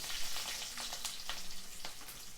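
Ginger, garlic and onion sauté in a pan for chicken liver adobo, a steady soft sizzle and crackle close by, with occasional light stirring scrapes and no talk.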